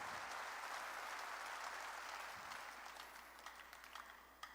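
A congregation at a sermon breaks into full, continuous clapping, heard at moderate distance and tapering slightly in the final second, with no voices over it.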